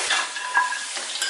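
Peanuts being stir-fried in a wok for a Hakka braised pork trotter dish, a short burst of sizzling with scraping and light metallic clinks of the spatula.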